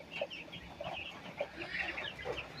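Broiler chicks cheep and cluck in quick repeated bursts, fairly faint, over a soft background.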